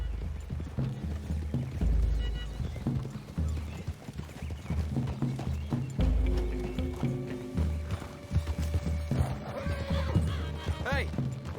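Horses clip-clop steadily through trees in Red Dead Redemption 2, hoofbeats close and continuous, with an occasional whinny and characters talking over the riding.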